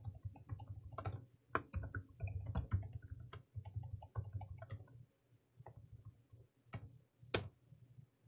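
A password is typed on a computer keyboard in a quick, irregular run of sharp key clicks, close and fairly quiet, with a short pause near the middle and a few final taps.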